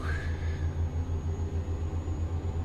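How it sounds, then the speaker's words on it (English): Truck engine in a truck driving video game, a low, steady rumble with a rhythmic pulsing throb, fairly even and unaccompanied by talk. "Sounds like a dream,"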